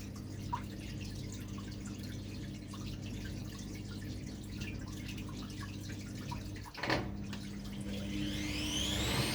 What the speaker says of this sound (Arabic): الكبسة الثالثة تصريف مي وبيتبعها الدوران السريع، بس ينزل المي لمستوى معين